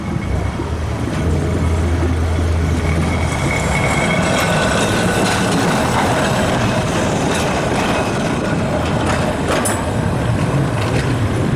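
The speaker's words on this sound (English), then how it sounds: "here's the balloon tram that's also heading down" Blackpool balloon tram 717 rumbles past on the seafront in light rain and wind, a loud continuous rolling roar with faint wheel squeal throughout.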